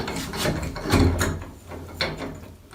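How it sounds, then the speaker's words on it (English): A shower valve is pulled out of its housing with short scraping, rubbing and clicking mechanical noises, close and moderately loud. "So basically these valves come all the way out"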